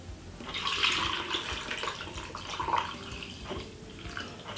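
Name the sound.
water poured in for Jamaican almond punch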